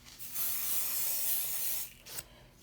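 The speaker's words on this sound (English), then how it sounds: "I'm going to put some pixie spray on the back" Pixie Spray low-tack adhesive hisses from an aerosol can onto the back of a stencil in one steady close burst of about two seconds, followed by a short final puff.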